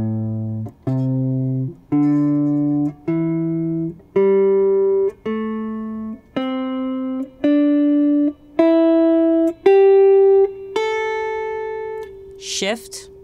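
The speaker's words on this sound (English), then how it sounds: "now we're going to play pentatonic minor starting on the root, ascending" A guitar picks a minor pentatonic scale note by note, climbing from the root in about a dozen evenly spaced, clean sustained tones, ending with a faint brush of noise.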